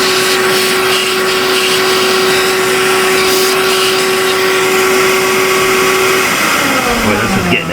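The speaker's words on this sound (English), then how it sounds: "We're gonna get the vacuum. We want to suck up some of the jiggly bits here" Shop vacuum running steadily in the engine bay of a 2018 Dodge Ram with a Hemi engine, a loud continuous whine with a held tone that drops in pitch as it winds down near the end, no talking.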